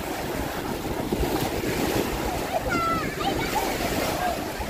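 Strong waves surge on the beach at Pantai Paparean on Lake Toba, a steady broadband wash of surf with wind buffeting the microphone and faint voices in the background throughout.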